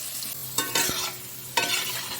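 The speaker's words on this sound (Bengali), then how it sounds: "এখন আমরা আলুটা ভাজবো।" Potatoes fry in a hot pan and get stirred, with a steady sizzle broken by a few sharp scraping strokes of the spoon against the pan. There is no talking.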